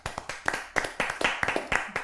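A church audience at a marriage-school gathering claps in a quick steady rhythm, close and moderately loud, for a couple of seconds.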